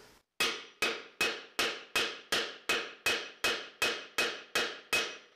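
Steady, evenly spaced mallet blows pound a wooden tenon into a barn beam mortise about every third of a second, a dozen sharp knocks each ringing briefly, pitch shifting as the joint tightens.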